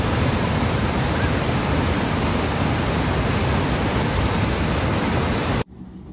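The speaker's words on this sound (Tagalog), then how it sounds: "Pumunta na tayo sa totoong falls. At ito kami sa totoong falls." Tukuran Falls in Puerto Galera roars as a dense, loud, continuous rush of falling water close by, then cuts off abruptly near the end.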